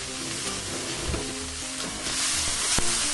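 Black sea cucumber eggs are stir-fried with doubanjiang and green onion in a hot wok, giving a loud continuous sizzle with scraping and clattering stirring sounds and a sharp knock near the end.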